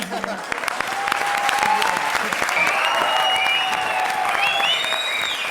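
Sustained applause from a crowd, loud and steady, with a few whoops and voices rising over the clapping.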